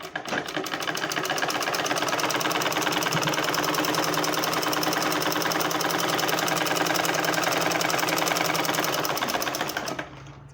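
A sewing machine stitches a blouse in one continuous run of about ten seconds, a loud, close, rapid mechanical whirr and needle chatter that starts abruptly and cuts off cleanly.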